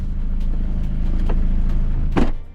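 A Volkswagen Golf 4 door shuts with a single solid thud near the end, following a steady low engine hum and faint clicks.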